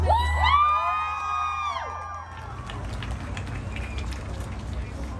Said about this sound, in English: give a big round of applause and a big shout out once again to the Aguilars family